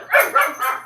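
A dog gives two or three short, close, fairly loud barks in quick succession, with no talk over them.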